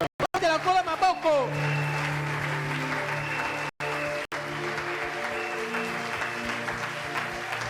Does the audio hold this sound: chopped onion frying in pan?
no